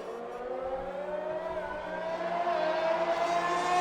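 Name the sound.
race car on track in a video game race at Silverstone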